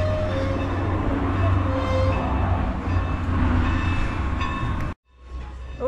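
A train pulling in rumbles steadily with low mechanical drone and squealing tones, then the sound cuts abruptly near the end before a low hum returns.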